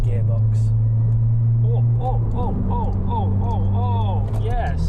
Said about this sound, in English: that noise. That deep rumble that's gonna go high.